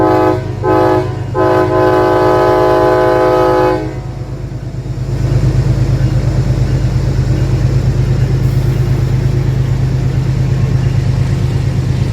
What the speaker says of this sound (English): My eastbound transit train meets a westbound transit train